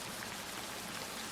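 Steady, soft rain patter at night, a dense even hiss of drops on a surface with no distinct events, heard alone at low level.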